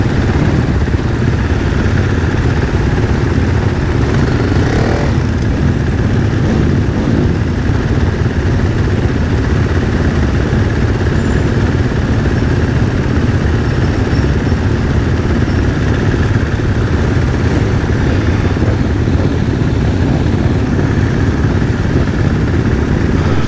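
A cold supermoto motorcycle engine runs steadily throughout an introductory lap at a German Supermoto Championship race at the Harzring, a continuous mid-pitched rumble with slight variations, no talking.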